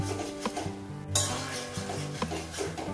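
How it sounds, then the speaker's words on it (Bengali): Boiled kochur loti (taro stolon) being stirred and fried in a pan at home, with steady scraping and clattering of a utensil against the pan and a low sizzle underneath, plus a sharper clank about a second in. "এটা ভালোভাবে ভাজা ভাজা করে নিতে হবে।"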